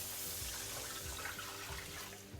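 Water poured into a pot of red chili oil, a steady broad splashing and rushing that holds evenly for a couple of seconds, close and moderately loud.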